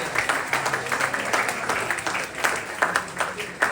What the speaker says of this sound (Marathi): अरे टाळ्या जोरात वाजवा